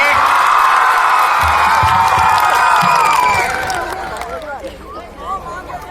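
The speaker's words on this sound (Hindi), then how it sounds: "आपको हंसाने के लिए एक बार जोरदार ताली बजाइए मेरे लिए" A live comedy show audience, including children, cheers and whoops loudly, the dense crowd noise holding strong before fading away toward the end.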